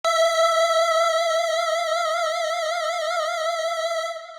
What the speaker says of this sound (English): especially because of this pitch A LFO that is going on